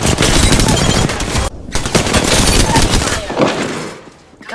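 Rapid automatic gunfire in the video game Apex Legends rattles loudly in long sustained bursts with a brief pause, dense and continuous, with a voice speaking over part of it.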